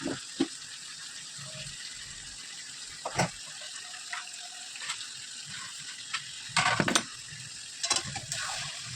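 Mutton pieces sautéed in a pan for a Bengali mutton curry, with a steady low sizzle broken by occasional scraping stirs and clatters of the spoon against the pan.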